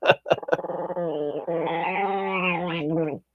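An old female dog gives a few sharp yips, then a long, wavering growl that sounds close and loud, with no talking over it.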